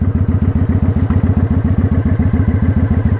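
Motorcycle engine pulsing with a rapid, even thumping beat as the rider eases out the clutch in first gear, loud and close, steady throbbing throughout.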